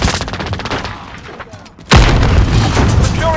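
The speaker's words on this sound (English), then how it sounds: "Grenade out!" A frag grenade bursts in Call of Duty Modern Warfare with a sudden loud boom, cutting through steady nearby gunfire that rattles before and rumbles on after the blast.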